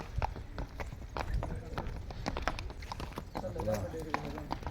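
Horse hooves clip-clop in a steady, close rhythm as a Nihang Sikh's horse is ridden, with people's voices talking over them.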